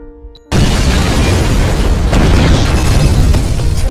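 A sudden loud blast bursts in after a brief quiet moment, followed by a sustained roaring, crackling rumble that fills the rest of the clip.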